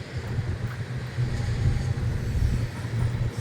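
Low, steady rumbling of a massive coal train passing through Wyoming's Powder River Basin, a constant drone of rolling cars with faint wind noise over it.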